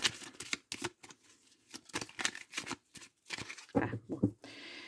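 A deck of tarot cards being shuffled and cut, giving quick riffling bursts and soft slaps in an uneven rhythm, close and fairly quiet.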